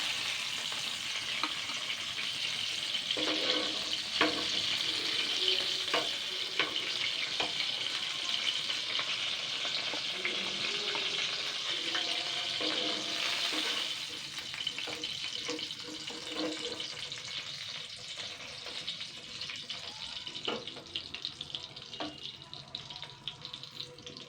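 Steady frying sizzle from lotte fish fingers in oil in a pan with scattered clinks and taps of utensils, continuous and fairly close, no voices.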